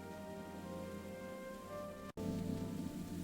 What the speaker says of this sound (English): The rain outside is so heavy.